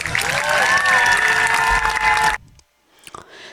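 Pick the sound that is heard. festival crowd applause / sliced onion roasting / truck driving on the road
festival crowd applause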